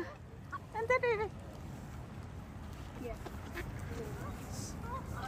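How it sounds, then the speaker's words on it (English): A goose gives a short burst of loud honks early on, followed by fainter scattered calls from a flock in a residential community, set against a low background rumble. "Oh, look at all those geese."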